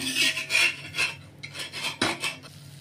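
A cheese bread pudla being flipped and pressed on a pan, with repeated close scraping and metallic rubbing of a spatula against the cooking surface in uneven strokes.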